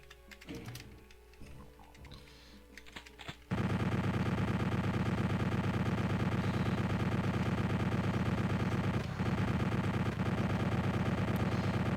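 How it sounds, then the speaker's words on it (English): Rapid, sustained chaingun fire from the video game Doom, a dense unbroken stream of loud shots lasting about eight seconds after a quieter stretch of other game sounds. "Chain gun's got a lot of punch to it, I like that."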